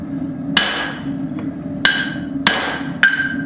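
A hammer strikes hot steel while a hatchet is forged, four sharp ringing blows at uneven intervals over a low steady roar, each ring decaying briefly.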